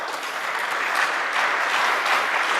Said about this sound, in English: Please give a huge round of applause to our panel.